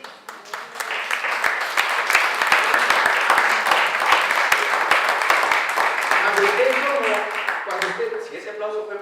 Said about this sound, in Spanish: si ese aplauso fue para mí, gracias.